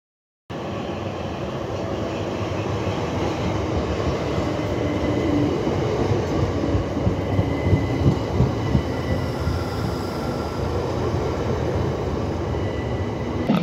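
Train rumbling steadily through Blackfriars station in London, a continuous loud roar with rhythmic wheel clatter, no talk.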